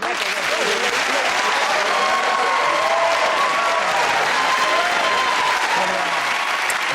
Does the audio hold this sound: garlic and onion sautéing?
no